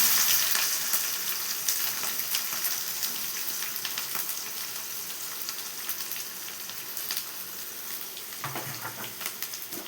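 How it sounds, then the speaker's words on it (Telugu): Onions frying in oil for chicken fry, a dense close sizzle and crackle that runs steadily throughout, with occasional stirring scrapes and a slight thump near the end. "తర్వాత ఇందులోకి ఆనియన్స్ వేసుకోవాలి."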